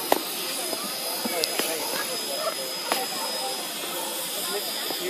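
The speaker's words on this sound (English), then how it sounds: "I think he wants to get rid of that steam before it backs past all these people" Steam vents from a locomotive during a steam excursion in a valley, a steady loud hiss lasting throughout with faint clicks and crowd voices underneath.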